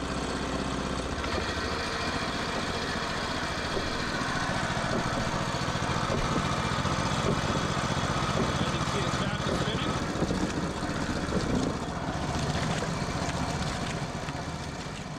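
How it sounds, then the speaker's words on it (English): A small gas engine driving a washing machine drum runs steadily at idle, a constant droning rumble with a faint rhythmic churning underneath, close and unbroken. "it's a gas engine"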